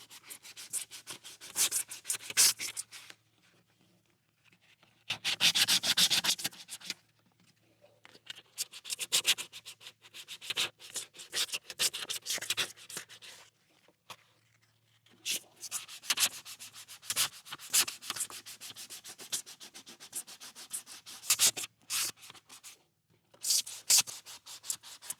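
Hand sanding with 220 grit sandpaper, close and scratchy, in bursts of rapid back-and-forth strokes separated by short pauses, with no talk over it.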